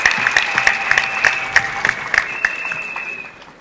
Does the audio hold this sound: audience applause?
yes